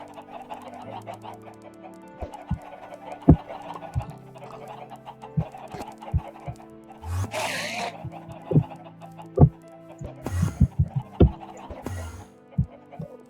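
Chickens in the Minecraft video game, soft repeated clucks scattered irregularly among light thumps and a brief rustling burst, moderately quiet with no talking.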